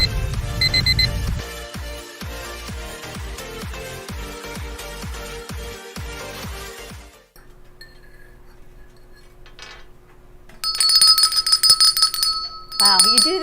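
Alarm clock ringing in a morning show setting, with bright bell-like chimes and clinking tones over a rhythmic backdrop, then a pause before shrill ringing resumes near the end.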